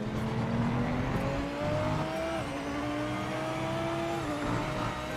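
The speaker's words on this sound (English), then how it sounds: "Why is the car sliding into that corner?" A racing car engine in the video game Project Motor Racing drones loudly and steadily, its pitch climbing and dropping between shifts as the car slides through a corner.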